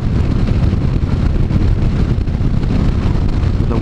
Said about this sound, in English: the wind is kind of hitting me right around mid-helmet area